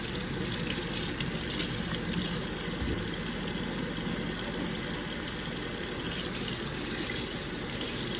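Meat is rinsed under running tap water before it goes into the cooking pot, a steady close gushing splash that holds constant throughout with no voices.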